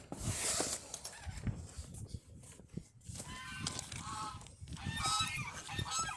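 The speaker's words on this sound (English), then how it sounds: "I swear them gooses can be aggravating." Geese honking loudly and repeatedly at close range around a farmyard where chickens and ducks are being fed, their harsh calls coming in overlapping bursts throughout.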